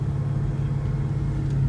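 A 2003 Ford Mustang Terminator Cobra idles along in first gear, its engine a steady low rumble with a constant hum, close and even throughout, with no voices.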